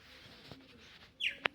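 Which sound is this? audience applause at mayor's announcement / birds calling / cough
birds calling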